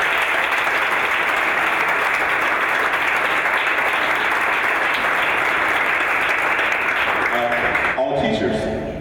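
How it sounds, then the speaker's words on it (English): An audience at a board of education meeting gives a sustained round of loud applause for support staff, dense clapping filling the room for several seconds before tapering off at the end. "give them another round of applause"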